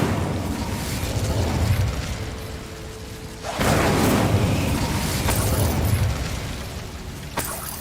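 Incendio fire spell cast in Hogwarts Legacy, a loud whooshing burst of flame that swells and holds, following a lower rumbling stretch, with a sharp pop near the end.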